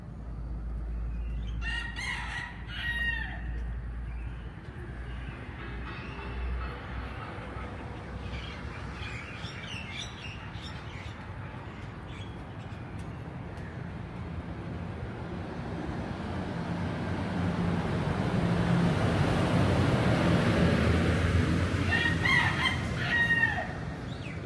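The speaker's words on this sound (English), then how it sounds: "A rooster at the roadside there." A rooster at a roadside in Singapore, crowing a few times at a middle distance over steady traffic rumble that swells toward the end.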